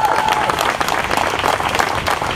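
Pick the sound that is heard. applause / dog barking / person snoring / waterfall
applause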